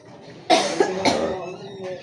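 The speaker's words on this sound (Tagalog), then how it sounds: "Inuubo na guys ang mga people here." A person gives a few sharp coughs close by, three short bursts in quick succession followed by quieter breathing and faint background sounds.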